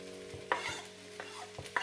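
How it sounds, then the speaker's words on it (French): Olive oil sizzles with a soft steady hiss under rice frying in a pan, with a few clinks and scrapes of stirring breaking through at intervals. "vous allez entendre un bruit de fond de grésillement"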